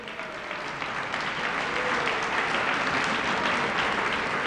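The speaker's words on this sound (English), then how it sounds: "give them a huge round of applause right now" A large gala crowd at a WWII legacy memorial victory celebration bursts into sustained applause, a dense, steady wash of many hands clapping that holds evenly loud throughout with no voices standing out.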